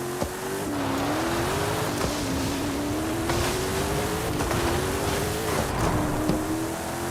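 Car engine droning steadily in the racing video game Forza Horizon 5, a continuous loud revving tone rising and falling through gear shifts over several seconds, with faint tire noise and no talking.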